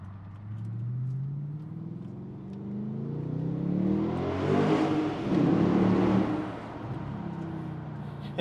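A modified Audi S5 with an aftermarket exhaust revs and pulls away, the engine note climbing through the gears to a loud peak before easing back, with a final downshift at the end.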